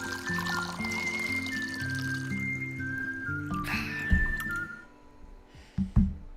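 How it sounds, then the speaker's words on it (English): Tea pours steadily into a cup, a continuous trickling stream over soft background music, thinning out before a couple of sharp clinks as the pot or cup is set down. "let's do a little tea pour."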